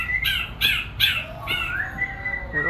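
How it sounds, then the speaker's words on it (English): A Guam kingfisher in a zoo bird house gives a run of loud, harsh, rasping squawks in quick succession, close by, with softer bird calls behind. "This is a Guam Kingfisher."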